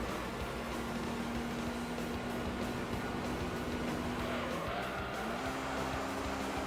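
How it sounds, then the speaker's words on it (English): A car engine in Gran Turismo 3 revs hard as its VTEC stage kicks in, a steady rising engine tone running continuously with a brief dip and pitch shift midway, loud and close with no talk. "VTEC finally kicked in"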